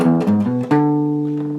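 A few guitar notes of the half form of a song's main riff, played alone and close, with the last note left to ring and fade.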